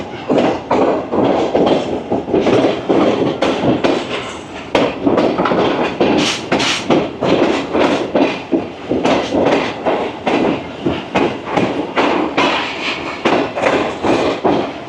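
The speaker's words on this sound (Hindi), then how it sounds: "यहाँ स्लो स्पीड में पास थ्रू करेगी हमारी ट्रेन।" A passenger express train rolls slowly through a junction station on the Karachi to Rawalpindi line, its wheels giving a steady, loud clickety-clack of repeated rail-joint knocks and wagon rattle that run for the whole stretch, with no talk over it.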